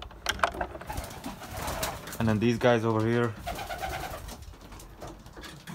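Belgian racing pigeons, including grizzles and small birds, give a loud, close, throaty bubbling coo lasting about a second, with someone talking before and after it in a loft.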